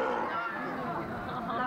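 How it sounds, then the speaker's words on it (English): A female sea lion roars with a deep, sustained rasping bellow that carries without a break, loud and close, with no voices over it. "you'll notice that when it comes to vocalising, she really does roar like a lion"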